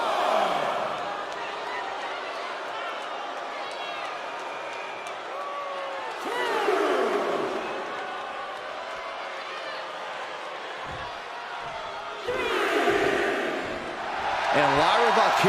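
Arena crowd at a WWE 2K25 wrestling match roars and cheers in swelling waves, loudest in bursts around the middle and end, with a commentator talking over the noise throughout.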